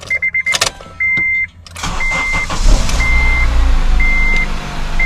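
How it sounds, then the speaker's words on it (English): A 2008 Acura RSX engine turns over and settles into a steady idle after a couple of seconds of beeping chimes and clicks, with intermittent warning tones continuing over the running engine. "I'm going to start up the vehicle."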